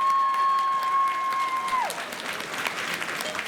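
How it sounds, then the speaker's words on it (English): Audience applause for the judges at a 2021 anime cosplay contest, a steady wash of clapping from a crowd that fades slightly, with a microphone feedback tone at first. "Let's have one more round of applause for our judges"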